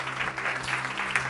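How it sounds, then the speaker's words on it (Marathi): A church congregation claps loudly during a sermon, giving a brief dense burst of many hands applauding together with faint murmuring beneath. "जरा जोरदार टाळ्या प्रभूच्या गौरवासाठी."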